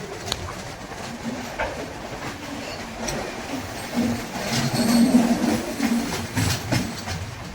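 A passenger train rolls along its rails with a continuous rumbling hiss, faint clickety-clack and occasional wheel squeal, louder around the middle, with no talking.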